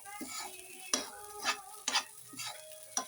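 A spoon stirs a sizzling mixture in a pan after lemon juice goes in, giving a few distinct scraping strokes at an uneven pace over a soft frying hiss, close up and with no talking.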